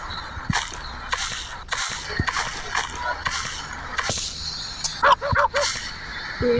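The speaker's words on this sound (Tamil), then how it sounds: "ஓகே, நாய் கத்துது." A dog in a video game barks a few times in a short cluster, sharp and fairly close, amid a busy mix of clattering game sounds and effects.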